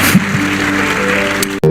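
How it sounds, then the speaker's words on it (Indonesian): Church congregation applauding together during a sermon, a dense, steady wash of clapping that holds evenly before cutting off abruptly near the end, with a brief tonal swell at the close. "Berikan tepuk tangan kita untuk Tuhan kita."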